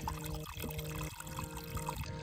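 Snowmelt water from a mountain stream trickles and pours steadily into a container on a mountain hike near North Vancouver, faint and continuous with a few gurgling breaks.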